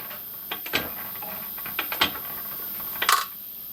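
A small hobby machine cuts a keyway into metal a few thou per pass, giving off a string of light, dry mechanical ticks and clicks in uneven bursts, close by and fairly quiet with no talking.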